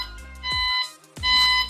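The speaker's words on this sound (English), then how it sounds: "if I turn it on the joystick, you'll notice that it beeps" An IQ 8000 foldable power chair's joystick, switched on while in freewheel mode, gives two electronic beeps, each a steady tone lasting under half a second with a short gap between them, close and moderately loud.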